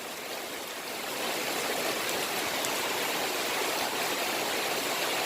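Rain falls steadily in a dense, even hiss that grows slightly louder after the first second and then holds constant and close, with no voices heard.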